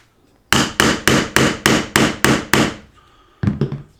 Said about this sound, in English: I'm just going to try it with a metal hammer.